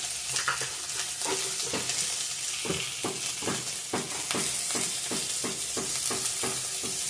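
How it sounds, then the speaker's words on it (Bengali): Chopped onion and tomato with salt sautéing in a pan, an even sizzle punctuated by regular scraping stirs of a spatula, close and steady, without speech. "লবণ দিয়ে ভালো করে কষিয়ে নেব।"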